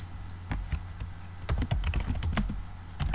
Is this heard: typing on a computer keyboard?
yes